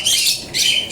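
Bright, high chirping from small birds in two bursts, close and fairly loud, with no voices.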